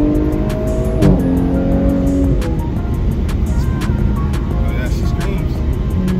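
An Audi sedan, either a stock C7.5 RS7 or a tuned B9 S5 Sportback with a V6, launches hard from a stop, its engine revving loudly up through the rpm range. The sound is heard from inside the cabin, with voices talking faintly beneath it.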